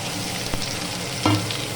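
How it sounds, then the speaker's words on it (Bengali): Onions dropping into hot oil in a pan for goat curry, a brief crackling sizzle with a clatter of stirring near the end, close and moderately loud. "এখন এই পেঁয়াজ দেবো। পেঁয়াজটা ভাজা ভাজা করবো।"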